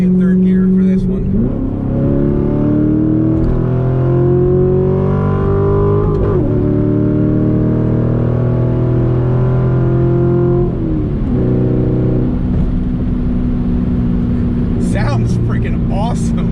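A manual C7 Corvette with an aftermarket Corsa or AWE exhaust drones loudly as it pulls hard in third gear, its steady low harmonic hum rising through the revs, dipping briefly at a shift, then climbing again under occasional talk.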